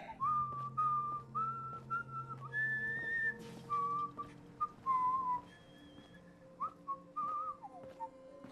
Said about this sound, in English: With that whistling.